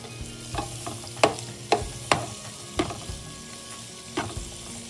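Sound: stir frying onion in a pan

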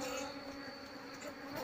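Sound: Apis cerana honey bee colony buzzing

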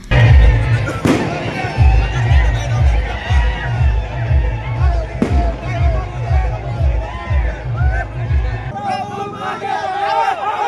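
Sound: firecrackers bursting at a victory celebration

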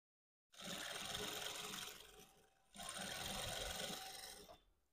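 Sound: sewing machine stitching saree lace

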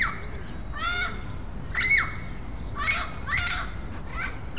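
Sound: Amazon parrots and crows fighting, squawking

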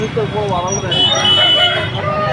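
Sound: rooster at Vijayawada market

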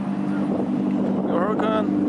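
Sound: Mercedes-AMG 6.3 liter engine of a passing car

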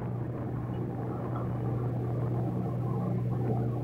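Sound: riding on a motorbike

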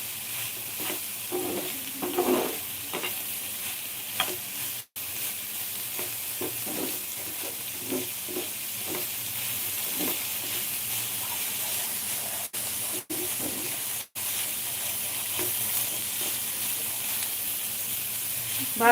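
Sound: roasting paneer and peas masala on low flame

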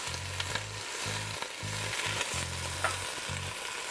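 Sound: garlic, chili flakes and basil frying in a pan

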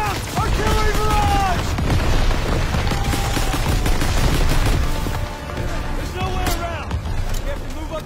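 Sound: artillery barrage in Call of Duty WWII video game

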